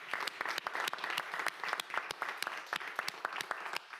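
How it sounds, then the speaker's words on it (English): Audience applause at a mayoral childcare and budget announcement in New York City, heard as a steady wash of many hands clapping with sharp individual claps poking through, moderately distant, with no speech over it. "That needs another applause."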